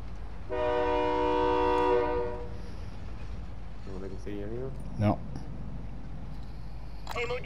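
A train horn sounds loudly for about a second and a half in Call of Duty: Modern Warfare II gameplay, with rumbling rail noise. Players talk briefly over the background afterward.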